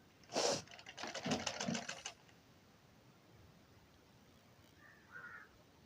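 A sewing machine runs a folded blouse seam in two short, close bursts of rapid clatter, then stops, leaving quiet room tone.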